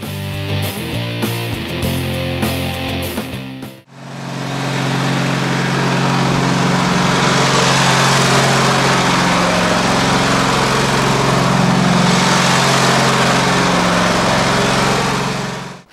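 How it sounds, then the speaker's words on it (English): A Swedish-built Bolens Articulator model 966 riding lawn mower runs with a steady, loud engine drone that holds constant after a short burst of other sound at the start, with no talking. "So today we're looking at this super cool riding lawnmower here. This is a Bolens Articulator."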